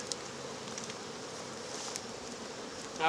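Dense, steady buzzing of many honeybees in a hive box close by, a continuous hum with occasional brief bees zipping near.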